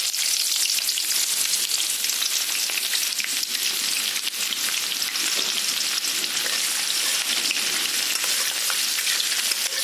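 Chopped onions sizzle in a hot pan over high flame, a dense, loud and continuous hissing crackle close by, with no voices over it.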